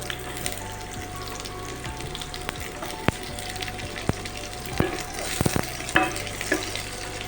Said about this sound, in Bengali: পেঁয়াজটাকে একটু হালকা করে ভেজে নিতে হবে